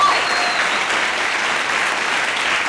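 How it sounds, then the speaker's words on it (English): Sustained, loud applause from an audience at a high school academic awards ceremony, a steady wash of many hands clapping for nearly three seconds with no break. "how about a big round of applause for this crowd?"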